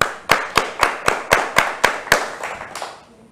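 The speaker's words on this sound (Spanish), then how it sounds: "un aplauso para este pendejo" About ten sharp, evenly spaced claps ring out close by at a steady beat, then soften and fade away at the end.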